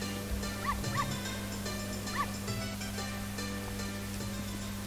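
Chickens clucking in the village of the Zelda: Ocarina of Time video game, with short rising cackles and clucks repeating over a steady game music hum.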